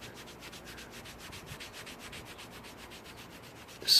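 Dealership decal glue residue is scrubbed off a car body with quick, even, rhythmic rubbing strokes, close and moderately quiet, with no voices, ending in a short louder scuff.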